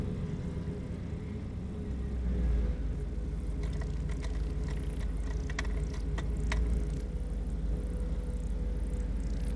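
A boosted 408 LS V8 car engine idles with a deep, steady, continuous rumble, close and loud, with a few faint rattles above it.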